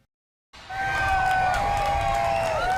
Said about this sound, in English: French President Emmanuel Macron leaped out of his limo to roaring applause and shouts of Vive la France